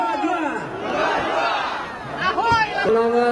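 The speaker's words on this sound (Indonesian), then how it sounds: "Riuh sorak-sorai ribuan pendukung menyambut kedatangan calon wakil presiden nomor urut 3 Mahfud MD di lapangan Astaka Pancing, Medan" Thousands of supporters at an outdoor political rally in a field in Medan, a loud continuous crowd roar of cheering and shouting with rising whistles and calls, a voice talking over it.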